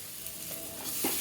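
Spice masala for hilsa biryani sizzles and fries in a pan after a splash of water, a steady close hiss with a few brief stirring scrapes near the end.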